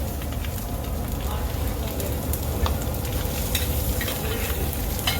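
Sliced ginger and coconut sauté in a pan in a restaurant kitchen, producing a dense, steady sizzle and crackle with occasional stirring clicks, close and fairly loud throughout.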